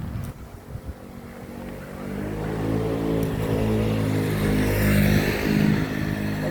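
An airplane landing at Don Mueang airport, heard from outside as a loud, steady low roar of engines and rushing wind that builds slightly over several seconds, with no talk.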